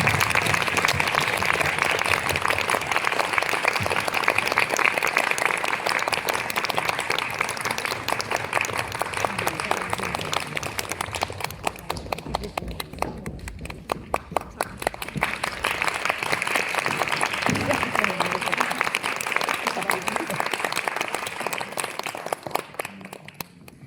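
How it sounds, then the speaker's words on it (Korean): An audience at a post-performance talk for a dance work applauds at length, a steady, dense clapping that dips briefly midway and then swells again before tapering off. "이제 박수를"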